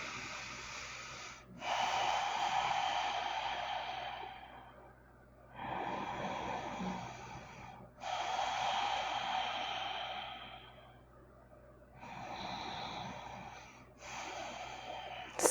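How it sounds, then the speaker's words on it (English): Long, audible breaths drawn in and let out slowly during a forward fold in a morning yoga session. Each one is a broad, airy whoosh with soft pauses between, close and fairly quiet, with no talking. "Breathe here."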